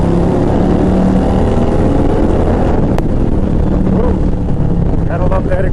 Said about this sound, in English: Gotta love that exhaust.